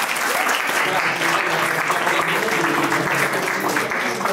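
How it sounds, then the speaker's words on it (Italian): An audience at a film workshop event gives warm applause to two guest speakers, with steady, dense clapping throughout at close range. "per cui chiedo un applauso preventivo."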